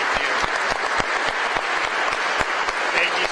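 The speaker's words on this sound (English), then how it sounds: "please give a big round of applause to Governor Ron DeSantis" An audience gives a sustained round of applause for Governor Ron DeSantis at a press conference in Melbourne, Florida, a loud dense wash of clapping with sharp individual claps standing out.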